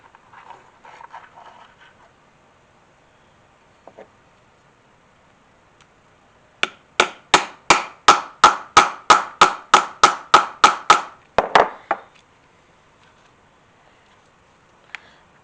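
Hammer striking a snap button onto a stamped leather wrist band set on a cupped anvil: about fourteen sharp, evenly spaced metallic blows in a quick steady rhythm, close and loud, after quiet handling noises.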